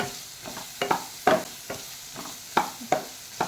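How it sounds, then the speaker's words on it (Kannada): Capsicum fries in a pan for Bombay-style pav bhaji while a spatula stirs it, giving a steady soft sizzle broken by regular scraping strokes roughly every half second, close and without voices. "ಹೀಗೆ ಚೆನ್ನಾಗಿ ಹುರಿದುಕೊಳ್ಳಿ"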